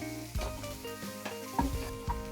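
Spring onions frying in a little oil for samosa filling, a faint crackling sizzle broken by several scraping stirs of a utensil in the pan, with no voices.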